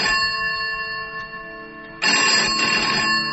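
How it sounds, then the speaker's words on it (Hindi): A room telephone rings with a sharp, bright electronic trill: a sustained tone that quiets briefly, then bursts back in louder and holds, close and alone. "और तभी कमरे का फोन बजा"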